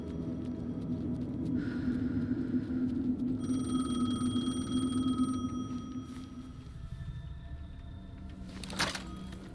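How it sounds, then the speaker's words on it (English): A payphone in Alan Wake 2 rings with a steady electronic trill that stands out over a low droning hum and a rumbling ambient background, then cuts off before a brief clatter near the end. "The payphone was ringing."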